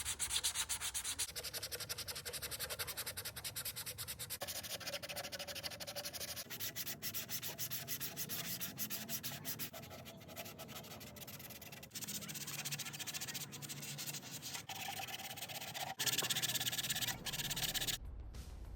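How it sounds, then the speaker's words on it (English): Continuous buzzing rasp of an electric sander with 180-grit sandpaper working a 3D-printed plastic helmet, its pitch and pressure shifting as it moves, with brief pauses and no talking. "I used my electric sander with 180 grit sandpaper to get rid of those layer lines"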